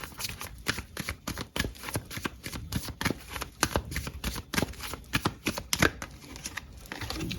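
Tarot cards are shuffled in quick riffling bursts, a rapid train of crisp, papery flicks close to the mic that run continuously with no voices.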